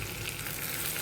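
Chillies fry in a clay pot of kalan curry, giving a brief, steady, close-up sizzle and bubbling hiss with no voices.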